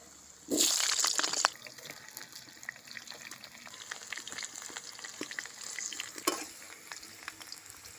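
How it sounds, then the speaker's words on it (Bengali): Potatoes for a country chicken curry go into hot mustard oil in a kadai with a loud burst of sizzling, then settle into steady crackling frying with scraping stirs. "এবার সর্ষের তেল দিয়ে মাংসের আলুটা ভালো করে ভেজে নেব"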